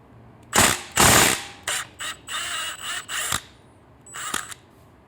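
A 17mm open end wrench and 16mm socket turn an exhaust header nut on a Triumph Street Twin motorcycle, producing loud, close bursts of ratcheting clicks and metallic scraping in several uneven runs.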